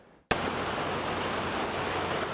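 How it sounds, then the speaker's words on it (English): The Los Angeles River runs strong during the city's first and worst storm of the year. A loud, steady rushing roar of water begins abruptly and holds constant, with no voices. "The Los Angeles River is flowing strong again as the city struggles through its first and so far worst storm of the year."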